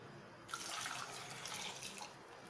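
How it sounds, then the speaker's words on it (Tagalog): A glass of water is poured into a pot while making a cheesy dip, a close, steady splashing gush that starts abruptly and runs for about two seconds alone. "And then, lagay natin yung isang basong tubig."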